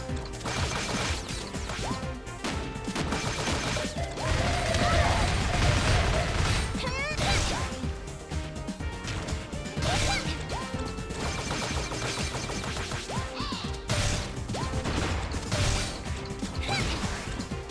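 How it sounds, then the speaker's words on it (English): Rapid bursts of a boss's bullet cannon firing and crashing impacts in the video game GalaxyTrail Mix, over busy electronic music and effects, continuous and loud throughout. "it's a bullet cannon, technically"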